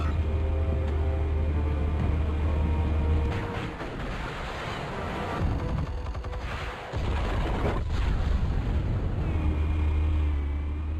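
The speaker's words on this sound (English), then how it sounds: "Explosives armed. Fire when ready." Explosives going off in the Batman: The Telltale Series video game, a sustained loud rumble with bursts of crackling blasts and a brief drop mid-way, dense low booming throughout with no talking.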